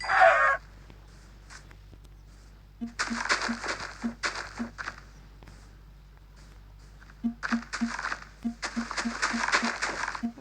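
Chickens clucking in Minecraft: a short burst opens the sequence, then after a pause come clusters of quick, rhythmic clucks and pattering steps, close and fairly loud.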